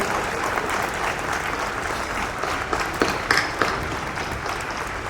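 An audience applauds steadily to welcome the President of India at a hospital event in Gomti Nagar, Lucknow, a dense, sustained patter of many hands with a few louder claps.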